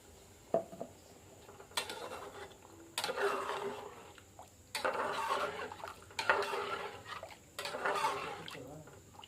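Water sloshes and splashes in bursts as paste is rinsed out of a mixer grinder jar in a home kitchen, with clinks of the jar between pours and quiet background sounds.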